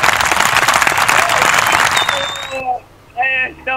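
A live show audience applauds the host with a loud, dense burst of clapping for most of the moment, then it cuts off abruptly and a voice speaks briefly afterward.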